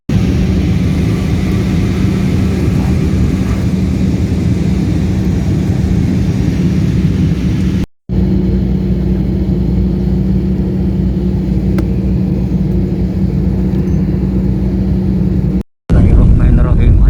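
Airplane engines roaring loud and steady during a takeoff run, a heavy constant rumble with a hum, heard from inside the cabin and broken by two brief cuts.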